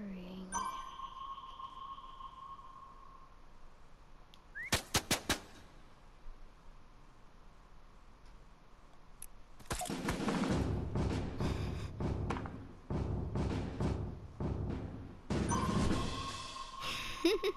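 Gunfire in the video game Fortnite: a quick burst of sharp shots, then a longer stretch of dense, rapid firing with a sonar-like ping beneath, all at moderate loudness.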